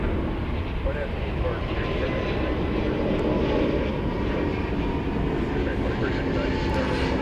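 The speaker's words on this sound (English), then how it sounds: "Now we have the Dreamliner to Shanghai." A Boeing Dreamliner jet departs for Shanghai on a long-haul flight, its engines producing a steady, fairly loud roar that holds constant from start to finish with no pause.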